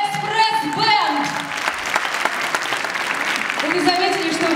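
A concert audience applauds a pop-jazz ensemble in a dense, loud, sustained wash of clapping with a voice speaking over it at the start and end.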